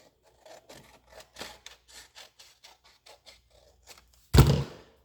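Paper for a zoology junk journal is trimmed in a string of short, quiet rasping cuts and rubs, followed by a brief loud scrape or clatter near the end.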